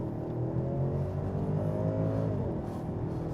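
A 2016 BMW 750i drives along with a steady low engine hum and road rumble, the tone shifting slightly partway through as it pulls ahead, with no talking.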